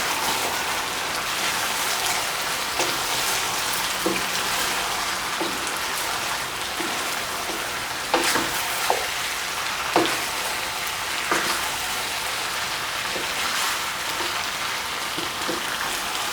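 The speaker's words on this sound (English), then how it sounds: "Okay, let's give this a good stir fry." Curry spices for Cantonese chicken curry stir-fry in a hot pan with a steady, dense sizzle and scattered small clicks and scrapes of the utensil, close and continuous throughout.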